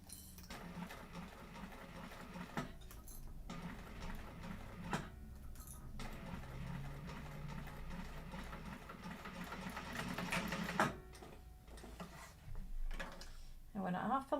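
A sewing machine stitches a line with a back stitch at the start and end, its motor whirring in steady bursts with short pauses between them while a voice talks over the work.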